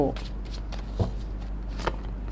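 Tarot cards are shuffled with soft, papery riffling and slaps, and a voice is briefly heard at the start.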